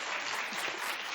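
A studio audience on The Wendy Williams Show bursts into sustained, dense applause, loud and steady from start to finish, with a faint crowd murmur underneath.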